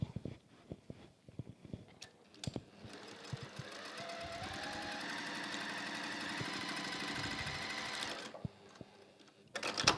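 A sewing machine stitching quilt pieces for a flying star quilt: a few soft clicks and handling taps, then a steady, fairly quiet motor whir for about five seconds before it stops and handling noises return.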